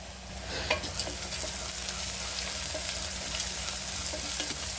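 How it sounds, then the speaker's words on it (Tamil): Onions sauté in a pan with a continuous close sizzle and frequent scraping stirs, steady and loud with no voices. "வெங்காயம் நல்லா வதங்கிட்டு கொஞ்சம் இந்த ஸ்டேஜில் வெங்காயம் வதங்கிறதுக்கு உப்பு ஆட் பண்ணிக்கலாம்"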